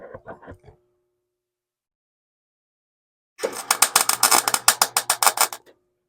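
A MIG welder tack welds a rust repair patch on a 1945 International K truck, a short crackling burst followed by a longer, loud sputtering buzz of rapid pulses.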